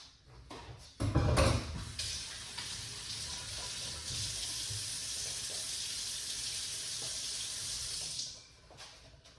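Water runs steadily from a kitchen tap for several seconds during beetroot juice preparation, a loud continuous hiss and splash that starts with a brief clatter and cuts off near the end.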